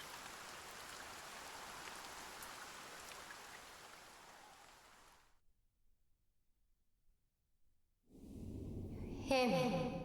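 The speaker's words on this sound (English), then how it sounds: "Lo, the rain doth fall, and soon enough the sun too shall fade." Steady rain falls in the Dragon Quest 1 HD-2D Remake for about five seconds, then cuts to near silence before game music and effects begin.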